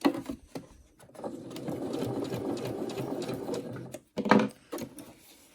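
A sewing machine stitches elastic onto a fabric face mask. A steady, close, rapid mechanical whir runs for several seconds, with short bursts and clicks at the start and end as the fabric is stitched back and forth.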